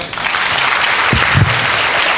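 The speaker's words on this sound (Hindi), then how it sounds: "thank you very much in दोनों के लिए तालियां" Loud, dense applause from a crowd at a university seminar, a continuous close roar of clapping hands with a couple of heavier thumps midway.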